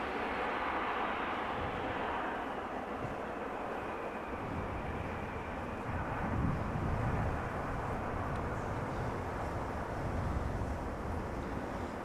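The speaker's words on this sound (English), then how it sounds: "Embraer arriving from Göteborg." An Embraer jet airliner arriving at Amsterdam Schiphol, a distant, broad roar of jet engines and wind that swells and fades slightly, heard faintly and continuously across the airfield.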